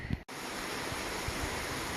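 Mountain river rushing along the South Fork of the Kings River in Kings Canyon National Park, a steady broadband wash of flowing water after a brief knock at the start.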